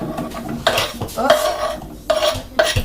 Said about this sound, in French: j'ai mis le yaloumi dans une poêle